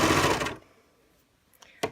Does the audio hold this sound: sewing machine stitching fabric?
yes